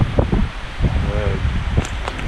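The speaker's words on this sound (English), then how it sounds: "You can see how windy it is." Strong wind buffets the microphone at a Snowdonia wild hammock camping spot beside water, with gusty, loud rumbling surges and rustling that rise and fall throughout.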